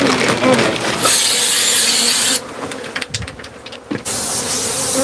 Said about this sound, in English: these bees are in all the lower 48 states. Okay, killer bees are not just in the Southwest anymore.